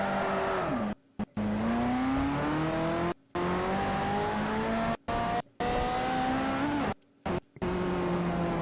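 1989 Street Rod in Forza Motorsport 4, its engine droning and climbing in pitch through repeated revs, with brief silent breaks between runs and a hint of tire squeal, loud and alone.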